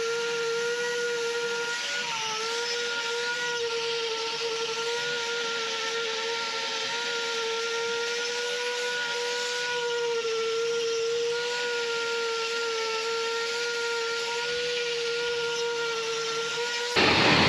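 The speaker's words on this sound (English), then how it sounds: "So I'm going to thin out the toe here and with the grinder and take a little" Grinder thinning the horn at the toe of a cow's hoof, a steady high-pitched whine held for the whole stretch, with slight shifts in pitch as the tool bears on the horn and a brief harsher burst at the end.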